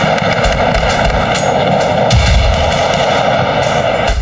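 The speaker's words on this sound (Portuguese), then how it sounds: "Foram mais de 12 horas de operação e intensa troca de tiros." Gunfire in an intense police operation against armed criminals in Rio de Janeiro's favela complexes fills the clip with a dense, continuous roar of loud overlapping shots and sharper cracks, with no talk heard.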